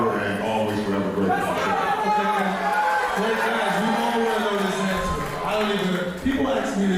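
Noisy crowd chatter and laughter fill the air around a player's interview, a dense, steady wash of many voices close by that buries the speech beneath it.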